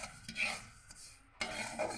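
Semolina and sugar being stirred in a pan with a spoon, giving soft scraping strokes that come and go, with a brief quiet pause before the stirring resumes.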